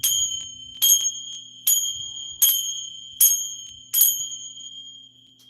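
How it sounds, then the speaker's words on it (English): A sacred chime rings six times at a slow, even pace, each bright metallic strike shimmering and then decaying before the next, with a faint low hum beneath and no speech. "now I'm going to use my sacred chime,"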